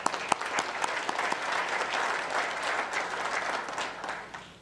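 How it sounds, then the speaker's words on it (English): A room full of attendees at a city's State of the City address breaks into sustained applause, a broad, loud crowd clapping with a few sharp nearby claps at the start. "Give yourself a round of applause."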